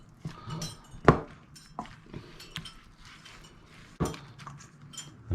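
Grated potato and onion with seasoning and cracked black pepper being mixed in a bowl, heard as soft shuffling under a few sharp clinks and knocks of a utensil against the bowl, spaced irregularly and close by.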